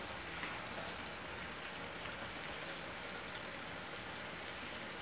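Salted onions fry in a pot over high heat for a Sierra Leone jollof stew, giving a steady, close, unbroken sizzle and crackle that runs the whole time with no talking.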